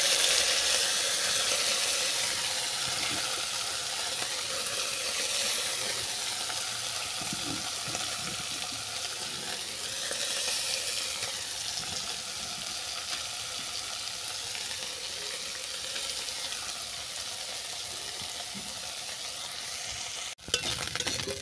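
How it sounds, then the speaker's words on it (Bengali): Small chuno fish fry in hot oil in a kadai, giving a loud, continuous, close sizzle that holds steady for the whole stretch, ending with a sharp clatter. "এই তেলের মধ্যে তুলে দেবো চুনো মাছ।"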